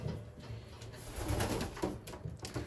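A pigeon coos softly in a nest box, its low rolling calls repeating close by but faint, with no speech over them.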